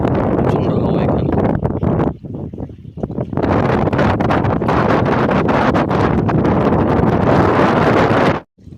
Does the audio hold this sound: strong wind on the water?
yes